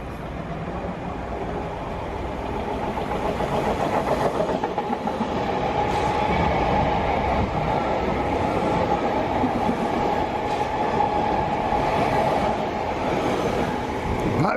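A non-stop Crossrail train passing on the track near London, a continuous rumbling roar with rhythmic rail clatter that swells and holds steady across the clip, close and loud, with no talking.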